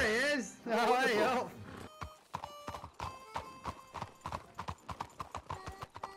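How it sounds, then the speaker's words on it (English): Horses in the Red Dead Redemption 2 video game: a wavering neigh opens, then close, crisp hoofbeats clip-clop in a steady walking rhythm, loud and distinct until the end. "There are several horses here"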